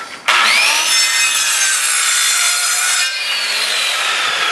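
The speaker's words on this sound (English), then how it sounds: "Now another cut I'm going to make is just a square cut." A circular skill saw makes a square crosscut through a 2x4 of wood. The blade bites in with a sudden loud, high whine that holds for about three seconds, then eases into a softer spin-down, close and without talk.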